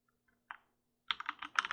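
Typing on a computer keyboard, one soft isolated keystroke followed by a quick cluster of clicky key presses, close and clear in a quiet room.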